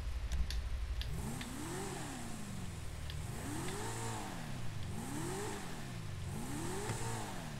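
Rhythmic engine revving in GTA 5 from a Dinka Jester sports car in a mod shop, repeated rising and falling vroom sweeps, steady and close, with no talking.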